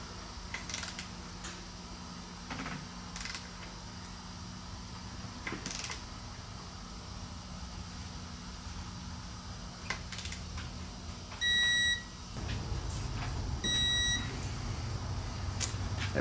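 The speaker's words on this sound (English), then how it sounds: "We've got our fancy dancy snap-on digital torque wrench." A Snap-on digital torque wrench tightens bolts on an XR650R engine top end, with faint ratchet clicks and handling noises, then short high electronic beeps near the end in a quiet workshop.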